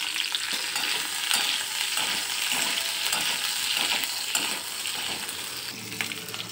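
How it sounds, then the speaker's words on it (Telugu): Washed and dried green chillies fry in a little oil, giving a dense, bright crackling sizzle that runs steadily throughout, up close with occasional stirring scrapes and no voices. "పచ్చిమిర్చి వేయించడానికి కొంచెం నూనె, కడిగి ఆరబెట్టినటువంటివి పచ్చిమిర్చి వేసేస్తున్నామండి"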